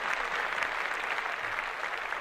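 Applause from a small group in a podcast studio, a fairly faint, even patter of clapping that continues throughout with no talking over it.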